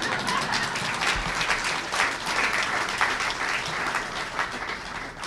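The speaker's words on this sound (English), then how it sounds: "You can clap." Dense, sustained applause from a crowd gathered at Seattle's Wing Luke Museum for the mayor's speech, a steady roar of many hands clapping throughout, fairly loud and without voices.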